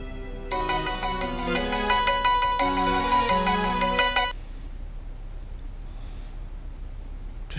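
A mobile phone ringtone plays a bright, tuneful melody for about four seconds, then cuts off abruptly, leaving only faint room hum; no one speaks.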